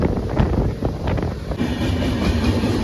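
The Janmabhoomi Superfast Express runs between towns on its Visakhapatnam to Secunderabad route, heard from on board as a loud, steady rumble and rattle of wheels with wind buffeting.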